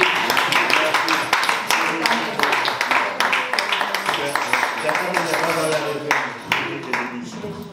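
A church congregation at a Sunday service claps for God, a steady dense patter of many hands filling the room, with voices mixed under it.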